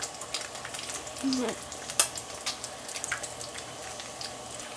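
Bacon frying in a pan gives a steady low crackle and spit with scattered small pops and a brief clatter, moderately close, with a faint bit of voice in the background.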